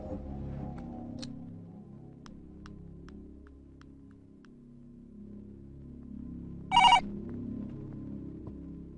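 Telephone ringing indoors, one short loud ring burst standing out near the end against a quiet background of faint low rumble and scattered small ticks.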